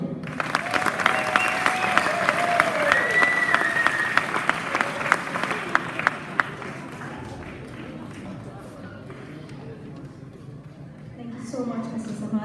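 A graduation audience applauds at the University of Arkansas Class of 2019 ceremony, with dense sustained clapping under a speaking voice that fades after about six seconds into quieter room sound.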